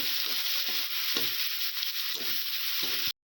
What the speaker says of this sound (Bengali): পেঁয়াজ আর কাঁচা লঙ্কা কেটে রেখেছিলাম দিয়ে দিচ্ছি। নাড়াচাড়া করে দিব।